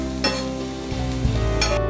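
Onions frying in a pan for paneer tawa masala, a close steady sizzle broken by a few scraping stirs of a spatula.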